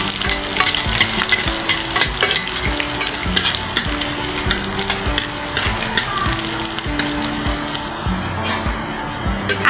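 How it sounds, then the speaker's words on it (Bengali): Garlic cloves frying in oil for a small-fish bharta, a dense, continuous sizzle with crackling spatters and the scrape of stirring, close and loud with no talking. "আগে রসুনের কোয়াগুলো একটু ভালো করে ভেজে নেব।"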